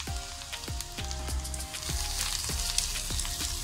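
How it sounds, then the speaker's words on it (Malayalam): Ginger frying in hot coconut oil for an Onam mulaku pachadi, a steady close crackling sizzle with repeated soft spatula knocks against the pan, no voices. "വെളിച്ചെണ്ണ നന്നായി മൂത്ത് വന്നിട്ടുണ്ട്, അതിലേക്ക് ഇഞ്ചി ഇട്ടു"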